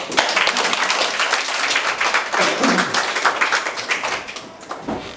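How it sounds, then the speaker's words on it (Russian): Audience applause at a Bashkir stage dance master class, a room full of people clapping steadily for about five seconds, dense and fairly close, with a few voices mixed in. "Похлопаем."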